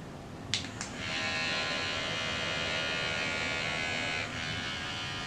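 A Uniqcare electric makeup brush cleaner starting with a couple of clicks, then spinning with a steady high whirring buzz for several seconds before slowing slightly near the end, close and quiet, no talk.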